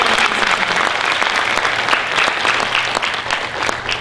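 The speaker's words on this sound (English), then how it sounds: "Give the team a round of applause." Steady, loud applause from an audience at a live event, a dense wash of many hands clapping without a break.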